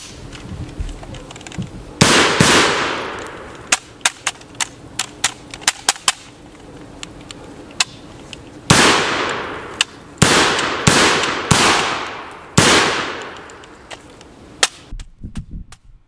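A Faxon ARAK-21 rifle fired in single shots during a torture test, loud sharp reports at irregular intervals, some in quick pairs and others with longer gaps, interleaved with smaller metallic clacks, no talking.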